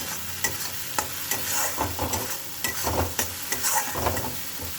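Spices with turmeric and chili powder fry in a pan, a steady sizzle punctuated by rhythmic scraping stirs of a spatula, close and fairly loud with no talking.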